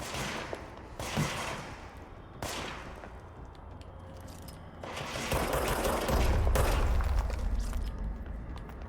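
Enemy gunfire in the video game Control: several loud bursts of rapid shots crack out in separate volleys, ending in a heavier sustained barrage with deep rumbling impacts.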